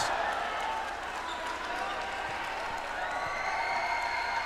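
A rowdy crowd at a local basketball game, Sto. Domingo vs Libon at the Ako Bicol Cup, cheering and clapping in a steady indoor roar, with a play-by-play commentator's voice over it.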